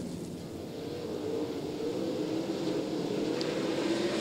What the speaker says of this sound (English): Caution flag waves! Donnie Schatz two laps away from his 300th. And the car slows